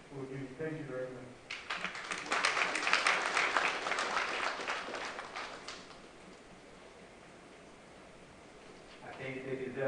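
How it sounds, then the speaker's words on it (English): An audience claps for a fundraising committee at a seminary alumni homecoming, a swelling burst of applause that peaks then fades, with brief speech before and after. "I think they deserve a better round of applause."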